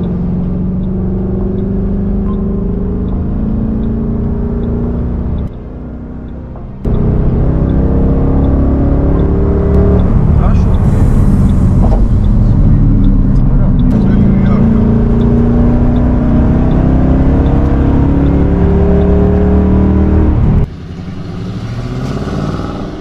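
A car engine drives steadily and loudly, rising and revving with gear changes and a brief lull, heard from inside the vehicle while hitchhiking in Georgia.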